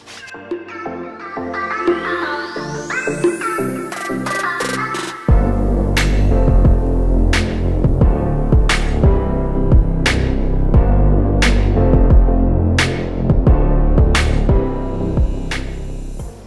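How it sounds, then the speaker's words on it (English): Steady mechanical whirring and buzzing with stepping motor tones, punctuated by periodic sharp clicks, continuous and fairly loud throughout. "sorry about the background noise. I got my 3D printer sitting there running."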